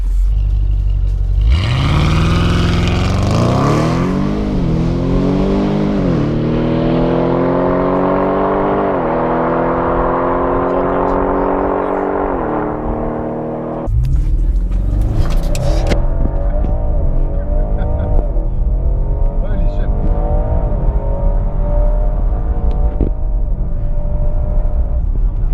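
An Audi RS6 launches hard at a drag event, its engine revving up through rising gear pulls for about twelve seconds, then a brief break before a second loud run of engine roar, close and dominant with no talk.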